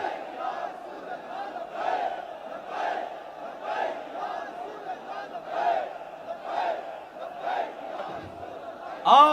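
A large crowd roars the Nara-e-Takbeer religious slogan in repeated rhythmic chanting, about a dozen loud, evenly spaced calls, all massed voices with no single speaker standing out.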